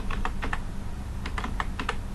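A new root password is typed on a computer keyboard: two quick bursts of close, light key clicks with a short pause between them, over a steady low background hum and no talk.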